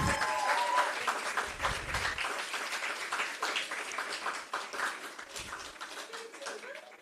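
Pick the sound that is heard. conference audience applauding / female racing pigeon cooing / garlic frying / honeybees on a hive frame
conference audience applauding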